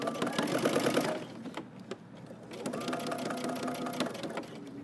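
A sewing machine runs close by, stitching and backstitching a seam on a Simplicity 8615 jumpsuit, a fast whirring burst that stops, then restarts at a slower pace with someone talking over it.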